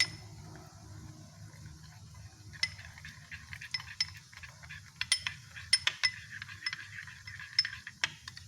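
A metal spoon stirs ground sugar into a little milk in a cup or bowl for homemade yogurt, giving soft scrapes and a run of light clinks that grow busier and sharper toward the end, with a low steady hum underneath.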